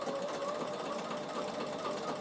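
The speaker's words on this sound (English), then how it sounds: "So just start sewing." A Bernina sewing machine stitches fabric at a slow, steady pace, its continuous motor whir and rapid needle clatter running close and even from start to finish.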